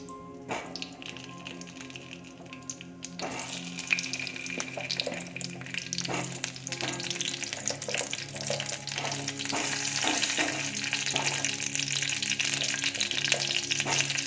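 Washed whole lemons dropped into hot oil: a quiet start, then a sudden burst of sizzling that swells into a loud, dense, continuous crackle with scattered pops.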